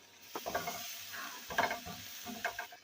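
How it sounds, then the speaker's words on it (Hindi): Spice masala with red chili powder, ginger-garlic paste and black pepper frying in a pan for chicken egg rolls: soft sizzling under intermittent stirring and scraping of a utensil, close and fairly quiet, no voices. "मसाला अच्छे से फ्राई हो गया।"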